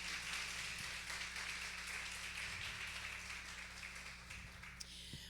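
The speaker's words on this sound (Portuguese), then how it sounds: "Você pode aplaudir ao Senhor mais uma vez?" An audience claps steadily through a women's church service, a dense wash of hand claps with a continuous low hum beneath and no speech.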